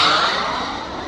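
CARF Models F-4 Phantom RC jet flying at a Joe Nall event, a steady broadband turbine whoosh that stays loud and fades slightly as it passes, with no talk.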